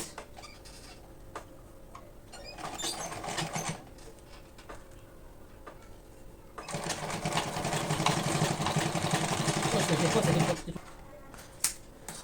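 A sewing machine sews a belt strip onto the edge of a foldable fabric lunch box, running in two bursts, a brief one and then a longer steady whir of several seconds, close by with quiet handling sounds between.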